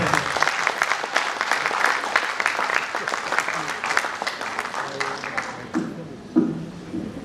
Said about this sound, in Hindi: तालियां बनती हैं